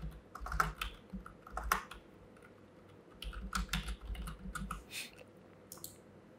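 Typing on a computer keyboard at a desk, clusters of close, crisp key clicks in uneven bursts separated by short pauses.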